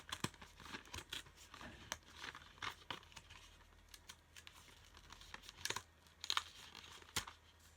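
Paper wrapper is ripped off a Crayola pastel stick in quiet, crisp tearing and crackling bursts, close up and faint, spread irregularly over several seconds without talk.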